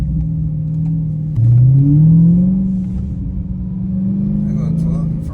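A Dodge Hellcat's engine rumbles and climbs in pitch as the car accelerates, a steady close-up drone from inside the cabin with a rising revving sweep partway through.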